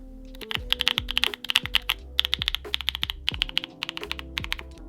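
Rapid typing on a full metal mechanical keyboard fitted with a full foam kit gives deep, muted thocky keystrokes in quick uneven bursts, close and crisp with no talking.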